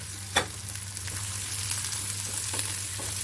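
Garlic, green chilies and chopped onion fry in oil and ghee as a steady close sizzle, with a single louder clatter early on and a few faint stirring scrapes.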